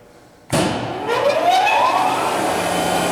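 A Bridgeport Series 2 vertical milling machine spindle starts up in reverse with a sudden thump, then a rising motor whine that climbs in pitch and settles into a steady hum, loud and close.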